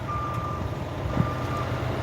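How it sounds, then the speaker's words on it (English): Semi-truck backing up, its reversing alarm sounding a steady series of high beeps over the low rumble of the truck's engine, heard from a moderate distance with no one speaking. "He's backing that semi-truck up."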